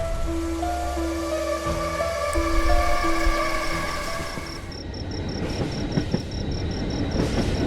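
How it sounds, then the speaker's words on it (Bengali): A cartoon train in a horror animation sounds a few short horn blasts, then rattles along at speed with a dense clatter and a rapid, repeating high beeping tone. "ট্রেন তখন ঝমঝম করতে করতে দ্রুত গতিতে ছুটে চলেছে"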